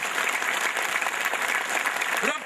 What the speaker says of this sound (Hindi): एक बार फिर तालियां चाहता हूं मेरे दोस्तों